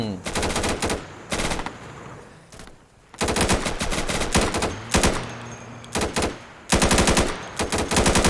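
Automatic gunfire from the tactical shooter game Insurgency rattles out in several loud, sustained bursts separated by short pauses, with the sharp reports crowding close together.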